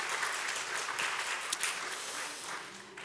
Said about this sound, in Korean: 우리 앞에 계신 것 같은데 잠깐 환영의 박수 올려드릴게요.